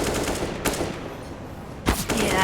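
Pistol gunfire in a Counter-Strike match on the Overpass map: two sharp, loud shots about a second apart over a low game-ambience background.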